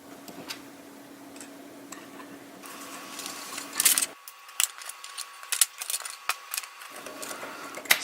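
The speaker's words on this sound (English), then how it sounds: "Now I gotta get all my keys off." Keys click and tick while being worked off a KeySmart Pro key organizer, a string of small, close metallic taps and snaps over a quiet background.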